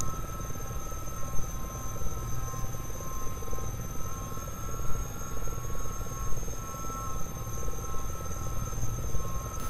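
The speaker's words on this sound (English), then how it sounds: "My first attempt at landing with this helicopter." A steady video-game Gazelle helicopter rotor thrum with a whining engine tone as it lands on an elevated helipad, constant and moderately loud, with no voices.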